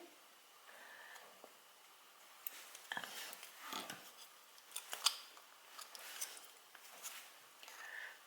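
Scissors snipping through paper wallpaper for a miniature pastry shop wall, a series of quiet, close, crisp cuts at irregular intervals with no talking.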